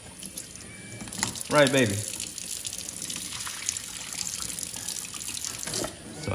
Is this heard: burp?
no